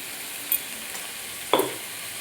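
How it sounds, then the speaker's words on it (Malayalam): Spinach with green chillies and salt being stirred in a hot pan, a soft steady sizzle broken by two brief scraping stirs. "ഉപ്പ് എല്ലായിടത്തും പിടിക്കുന്നത് പോലെ ചീര ഒന്ന് ഇളക്കി കൊടുക്കാം."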